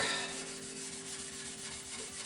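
Abrasive rubbing with the grain over the old varnished wooden case of an HMV 461 gramophone, a steady continuous scrubbing hiss with no pauses, close and moderately quiet.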